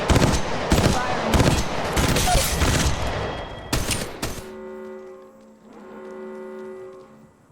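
Rapid bursts of automatic gunfire from a sci-fi shooter game, loud and dense, stopping abruptly after about four seconds and giving way to quiet tonal electronic game sounds.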